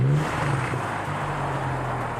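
A BMW M135i with its N55 engine idles steadily nearby, a low, smooth rumble with a slight throaty swell at the start, heard alone for a couple of seconds.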